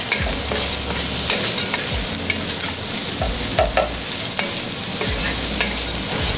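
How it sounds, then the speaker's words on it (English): Julienned carrots, thin-sliced green pepper, ginger and garlic sauté in a pan for ginger beef: a loud, continuous sizzle broken by regular scraping strokes of a utensil every second or so. "Julienne carrots, thinly sliced green pepper. I'm gonna saute this for about 3 minutes"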